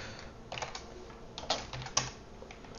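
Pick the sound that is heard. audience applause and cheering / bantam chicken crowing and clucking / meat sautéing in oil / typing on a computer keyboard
typing on a computer keyboard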